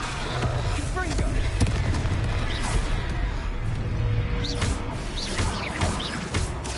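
Confringo blasting spells fired in a video game battle, crackling impacts and bursts layered over dense combat noise and music, with a spoken voice calling out spell names.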